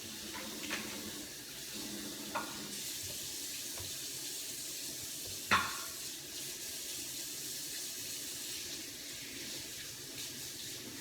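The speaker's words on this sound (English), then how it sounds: "Let me wash my knife because I didn't rinse it when I was peeling the raw shrimp." Running tap water rinses a kitchen knife used for peeling raw shrimp, a steady hiss of flowing water at a sink with a sharp clink of the blade midway.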